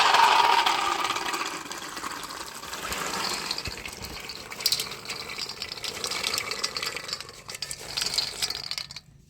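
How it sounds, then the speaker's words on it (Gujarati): Water gushes and then trickles away as soaked peas drain in a colander, a loud pour that thins to drips near the end. "એમાં આપણે વટાણા નાખી દઈશું પાણી નીતરી જાય એ માટે"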